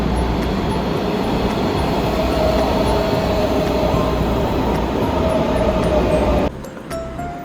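A MARTA metro train rumbles and roars steadily into an Atlanta station, loud and close for several seconds before the noise drops away near the end.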